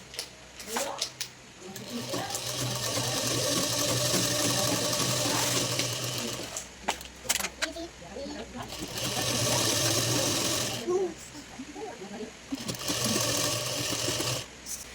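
A sewing machine stitches a false border onto a sari in several bursts, its whirring runs broken by short pauses and small handling clicks.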